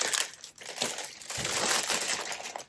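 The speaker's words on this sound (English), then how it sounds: "the problem is this plastic bag got stuck on it" A plastic bag crinkles and crumples loudly up close while an item is packed into it, in a continuous run of rustling bursts with no talk.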